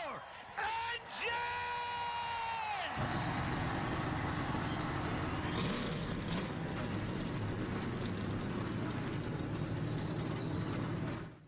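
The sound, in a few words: stock car engines starting on pit road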